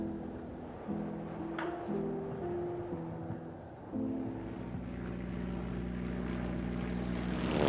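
Propeller-driven C-47 transport planes droning overhead, a steady layered engine hum with shifting tones that swells gradually louder toward the end, with no voices.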